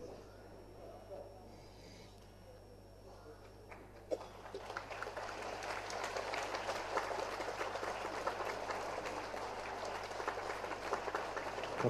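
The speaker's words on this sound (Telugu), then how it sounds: "ఇంకా కొంచెం చప్పట్లు గట్టిగా" An audience applauds at a centenary celebration, a dense rising patter of many hands that starts a few seconds in and carries on steadily, moderately loud, over a low background hum.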